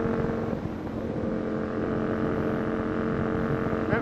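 Aprilia RSV 1000 R Factory motorcycle engine droning close and loud while riding, a sustained throaty tone that climbs slightly near the end.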